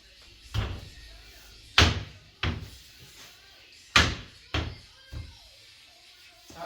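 Sharp wooden knocks as a French door is tapped into a tight frame, six distinct thuds spaced irregularly over several seconds with quiet between, close and fairly loud.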